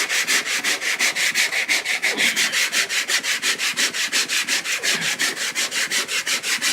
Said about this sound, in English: continue sanding it nice and even